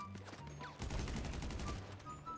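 A dense burst of automatic gunfire in GTA V crackles for about a second, fairly faint, over background game music.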